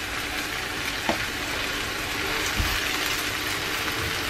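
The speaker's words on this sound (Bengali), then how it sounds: "ডিমগুলোকে সবজি এবং গ্রেভির সাথে ভালো করে মিক্স করে ফেলতে হবে।" Fried eggs being stirred into a cauliflower and vegetable gravy in a pan, giving a steady close sizzle with soft scraping of the spoon and no talking.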